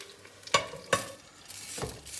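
Potatoes fry on very low heat in a pan and are turned over, with a soft sizzle broken by two sharp metallic scrapes and a duller clatter, close by and without voices.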